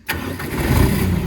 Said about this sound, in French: je vais allumer le moteur, ça fait un peu de bruit